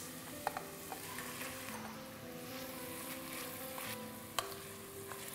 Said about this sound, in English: Saute on high flame